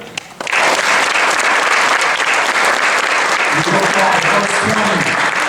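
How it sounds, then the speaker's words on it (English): A college honor-society induction ceremony audience breaks into loud, sustained applause after a brief pause, a full room of clapping holding steady to the end with faint crowd murmur underneath. "How about a round of applause for that?"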